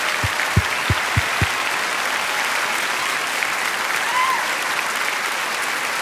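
Concert audience in Yerevan applauding steadily for about six seconds, a dense wash of clapping over a broad crowd hum, with a few sharp louder claps near the start and no voices.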